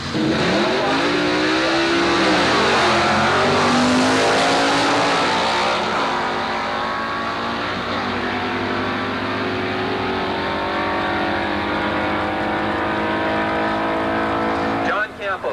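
Antique drag racing cars, including a Chevy Nova, roar and accelerate loudly down the strip at Carlsbad Raceway in 1990, a sustained rising engine blare with a track announcer talking over it.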